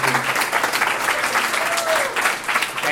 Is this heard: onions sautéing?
no